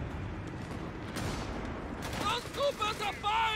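Gunfire and grenade blasts in Company of Heroes 3 crackle as a dense, distant stream of shots and explosions over a steady hiss. Voices talk over them near the end.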